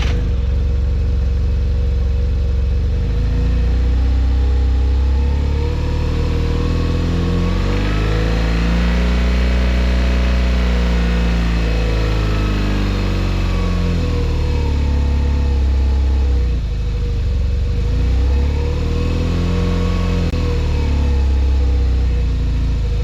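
A motorcycle engine, used for slow-riding basics in CBT training, runs steadily close by and swells in two smooth revs before easing back to idle, alone with no talk.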